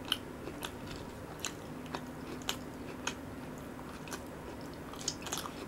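Buldak fried noodles and raw green onion being eaten up close, a string of crisp bites and crunches at irregular intervals over quiet chewing, no talk.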